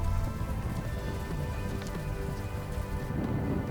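Heavy rain pours down during a storm near Kilbirnie, a dense, constant hiss of drops drumming close on a surface with a low rumbling undertone and no voices.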